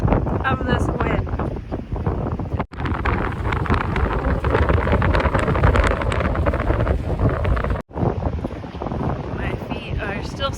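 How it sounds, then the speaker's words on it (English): Strong coastal wind on the Oregon coast roars and buffets hard against the microphone, loud and continuous for the whole stretch with only two brief dropouts, while a voice speaks faintly beneath it. "I wish you could feel the intensity"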